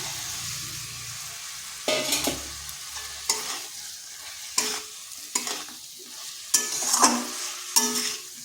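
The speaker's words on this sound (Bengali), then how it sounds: "এটা ভালো করে মশলার সাথে কষিয়ে নিচ্ছি" Fried taro (gathi kochu) pieces stirred and sautéed into an oily spice masala in a kadai: a soft sizzle throughout, broken by repeated scraping stir strokes about every second, close and moderately loud, with no talking.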